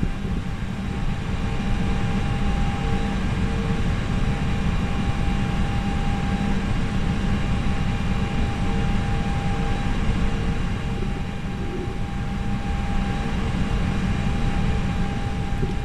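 Steady broadband engine rumble and hum from an Airbus A320 taxiing in the Flight Simulator X game, a continuous droning tone with fixed pitch lines holding level throughout, with no talk over it.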